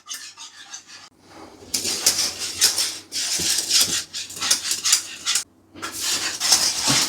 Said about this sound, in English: It's actually quite a workout stirring it when it's this thick